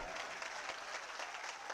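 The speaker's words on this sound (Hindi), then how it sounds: "जोरदार तालियों के साथ इन तमाम नौजवानों का शुक्रिया अदा किया।" Steady applause from an audience at a mushaira, a poetry gathering, filling the whole moment with dense, even clapping and no break.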